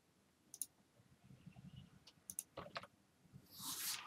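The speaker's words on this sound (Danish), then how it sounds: "Man trykker på Ctrl V eller Indsæt." A few crisp computer keyboard clicks as keys are pressed for a Ctrl V paste in PowerPoint, two short bursts spaced apart against a quiet background, closing with a brief hiss.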